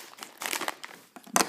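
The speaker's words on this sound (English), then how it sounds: "Let me go ahead and just get into the bag of potato chips really quick" Crinkling and crackling of a Calbee potato chip bag being torn open, a close, loud plastic rustle in uneven bursts with a sharp final crunch.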